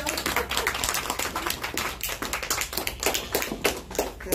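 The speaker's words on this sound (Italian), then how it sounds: "Un grande applauso per la nostra amica" An audience claps for author Rosanna Fienga at a presentation of her first book in Sorrento. The clapping is dense and steady, with sharp individual claps standing out across the whole stretch and no voices over it.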